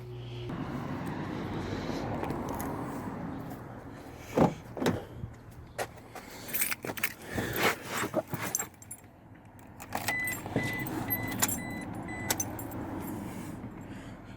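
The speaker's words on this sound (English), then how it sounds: "I'll grab the keys." Keys jangle and clink in a hand near a 2008 ute, bursts of metallic jingling scattered over a low steady background rumble, with a few door-like clunks between them and no talking.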